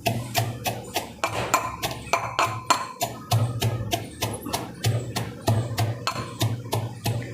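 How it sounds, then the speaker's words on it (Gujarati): Spicy chavanu snack mix being pounded in a mortar to make masala for stuffed bitter gourd bhajiya: steady, rhythmic thuds with sharp clinks, about two strikes per second, close and continuous. "ખાંડણીમાં એને ખાંડી લેવાનું"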